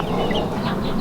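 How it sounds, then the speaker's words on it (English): Chickens cluck close by in a backyard garden path, a busy overlapping chatter of short calls with no voices. "the chickens sure do like to cross here to visit the garden"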